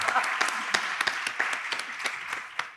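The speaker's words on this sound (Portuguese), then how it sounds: "Uma salva de palmas para Gerson." Audience applause at a cultural panel event on urban Amazon culture, a steady dense wash of many hands clapping with sharper individual claps standing out, fairly loud and continuous throughout.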